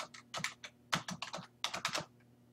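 Rapid bursts of clicking keystrokes on a computer keyboard while entering figures into an Excel spreadsheet, close and crisp, in short irregular clusters with no talk over them.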